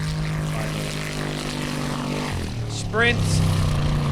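Offroad racing car at Icelandic Formula Offroad in Hella, its unmodified engine running hard on nitro with a loud sustained roar and a sharp rev spike near the end, under a commentator's voice.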